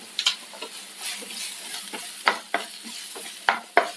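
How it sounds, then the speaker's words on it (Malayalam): Thick-sliced onion sizzles steadily in hot oil for a vegetable chickpea curry, with a continuous frying hiss and a few sharp spoon scrapes against the pan; no voices. "ചൂടായ എണ്ണയിലേക്ക് സവാള ഇട്ടെടുക്കാം."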